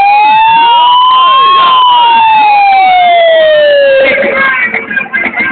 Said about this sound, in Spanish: Venga, ponle sirena ahí.